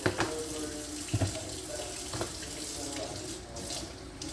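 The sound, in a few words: running potatoes under tap water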